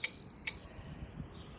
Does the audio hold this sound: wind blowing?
no